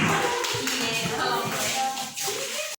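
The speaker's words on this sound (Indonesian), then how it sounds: "kita beri tepuk tangan dulu untuk kelompok 4 atas jawaban mereka" Brief classroom clapping for a student group after their answer, a short burst of hands mixed with shuffling and tapping that cuts off abruptly.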